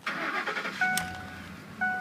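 A 2007 Ford F150 4x4 engine cranks briefly and fires up, then settles into a steady running rumble, heard up close with no talking.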